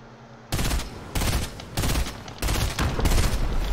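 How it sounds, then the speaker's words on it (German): Video-game shooting at a gas pump sounds as repeated loud bursts of rapid automatic fire, four or five sustained volleys in quick succession with brief gaps, close and dominant, no talk. "Und dann die Zapfsäule in die Luft schießt in dem Moment"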